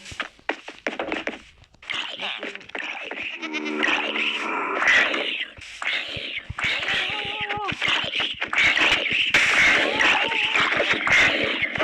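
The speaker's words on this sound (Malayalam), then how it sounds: "നമ്മുടെ ആട് നമ്മുടെ അടുത്ത് തന്നെ ഉണ്ട്." Repeated goat bleats from a Minecraft goat, some with a synthetic game-like quality, mixed with talking and occasional clicks and thuds throughout.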